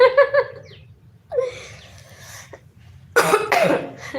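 A few harsh coughs in separate bursts, close and loud, with quieter throat sounds and breaths between them.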